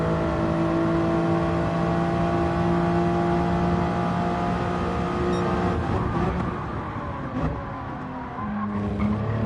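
Race car engine in a racing sim, droning loudly at steady high revs with tire noise, then a dip and quick pitch change as gears shift and throttle reapplies, close and continuous.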